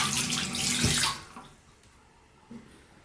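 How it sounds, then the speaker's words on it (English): A hand being rinsed under running water while mounting a Xenia coral frag with fishing line: a loud, close gush of water for about a second, then a quiet lull and one small splash. "I'm just gonna rinse it real quick, keep it in the water, wash my hand"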